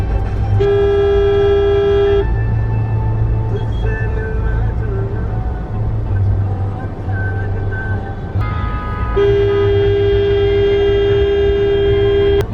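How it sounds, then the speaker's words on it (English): Car horns blare repeatedly over a steady traffic rumble in Rishikesh or Haridwar, India, with two long sustained honks standing out loudly near the start and end. "the incessant and very impatient honking"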